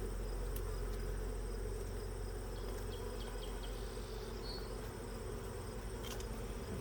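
Honey bees drone in an open beehive, a dense steady buzz heard close and continuous throughout with no talking.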